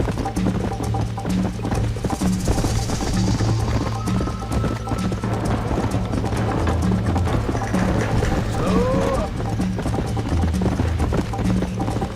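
A horse gallops in the Red Dead Redemption video game, its steady clip-clop hoofbeats running continuously and fairly loud throughout, over a low rumbling game soundscape.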